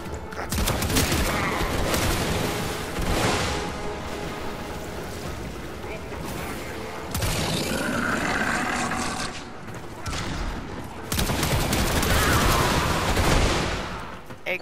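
Video game explosions, attached to enemies as they blow up and go flying, come as loud, dense bursts of booming blasts and crackling gunfire-like noise, heavy and continuous with brief dips, mixed with faint voices.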